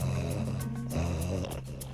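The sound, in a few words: snoring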